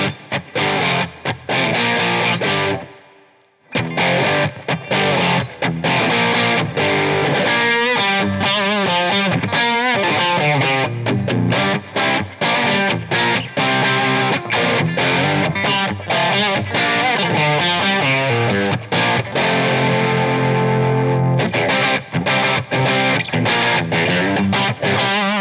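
A loud, close electric guitar run through a Keeley blues driver overdrive pedal, playing a continuous driven bluesy passage of chords and fills with a brief pause near the start, no voices.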